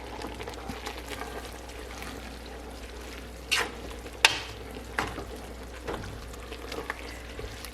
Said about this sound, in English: And get that all stirred in really well.